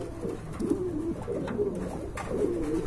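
Pigeons coo in soft, repeated throaty bursts close by, steady low warbling calls over faint background noise.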